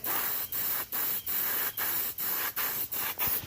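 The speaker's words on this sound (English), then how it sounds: "As you can see, the paint coming out of my airbrush." An airbrush sprays paint onto a spotted bass taxidermy mount, a soft close hiss broken into about eight short bursts with brief gaps between them, fairly quiet and with no talking.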